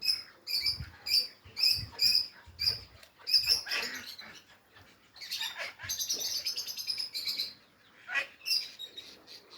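A bird gives a rapid series of high, sharp chirps in short bursts, close by, with soft rustling between the calls.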